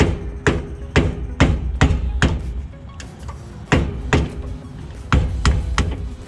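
Sharp, loud hammer blows on metal ring out in quick irregular groups of strikes, close by, with brief pauses between clusters, during turbo work on a Chevy Malibu.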